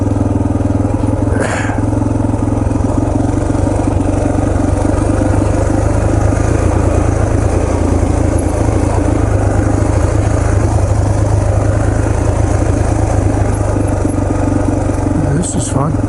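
Yamaha TT-R230 dirt bike on deep rutted trails at Windrock Park, a loud continuous single-cylinder engine drone holding steady throughout at close range, with a rider's voice heard intermittently over it.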